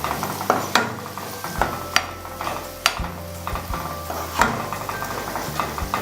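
Ridge gourd and moong dal curry being stirred in a pan after turmeric and coriander powder go in, with sharp utensil scrapes and knocks over a soft sizzle, fairly close and without speech.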